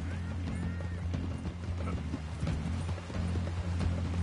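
Hooves clip-clop at a steady trot from a horse in the video game Red Dead Redemption 2, a rhythmic series of close thuds over a low background hum, with a faint whinny early on.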